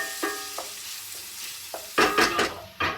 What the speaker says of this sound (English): So I'm adding some chopped garlic to the pot that I've been cooking the Italian sausage.